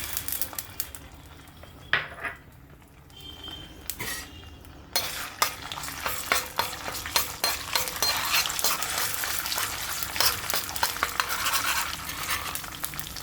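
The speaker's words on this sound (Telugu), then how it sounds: "నూనె వేడెక్కిన తర్వాత అల్లం వెల్లుల్లి పేస్ట్ అండి ముందుగా" Ginger garlic paste fries in hot oil in a kadai, a close, steady sizzle with repeated scraping stir strokes and light metal clinks from the spoon against the pan.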